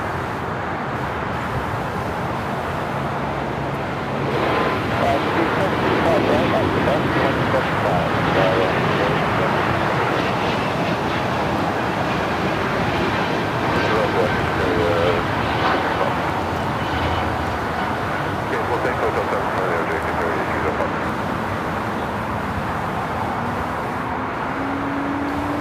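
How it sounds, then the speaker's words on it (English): An Emirates Airbus A380 on final approach to runway 24R at LAX makes a broad, steady jet roar that builds and holds, with people talking over it. "The Emirates A380 now on final for 24 rights."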